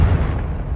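An explosive Confringo spell blast goes off in the Hogwarts Legacy video game, a short heavy boom with a deep rumbling body, loud and close, lasting under a second.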